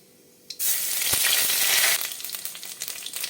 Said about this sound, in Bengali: তেলটা গরম হয়ে গেলে আমি ফোড়ন দেবো শুকনো লঙ্কা আর রাঁধুনি